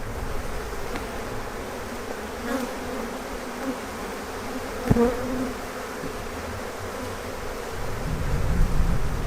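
Honeybees hum steadily inside an open hive during a colony inspection, a dense continuous buzz holding close and even for the whole stretch, with a brief knock midway and a louder, fuller swell of buzzing toward the end.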